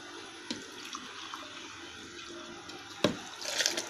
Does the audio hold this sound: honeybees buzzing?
no